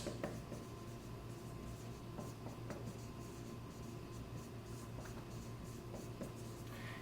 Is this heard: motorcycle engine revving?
no